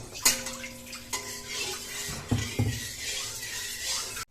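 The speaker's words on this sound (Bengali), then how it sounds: "কড়াইটা এখানে ধুয়ে নেব" A metal wok (kadai) is washed in water, with a ringing clang, knocks and clinks of metal against the sink, and running, splashing water throughout.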